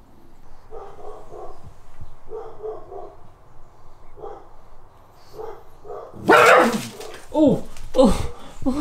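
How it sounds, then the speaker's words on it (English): A dog barks and yips in short bursts, first fairly near and then louder with whimpering, whining cries toward the end, amid a home with other dogs around. "He's not barking at you."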